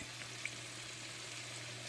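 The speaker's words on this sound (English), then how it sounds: "While my onion is frying, my vegetable is still cooking in low heat." Onion frying in oil on a stovetop while preparing Cameroonian ndole, giving a steady soft sizzle and crackle throughout with a faint low hum beneath and no talking.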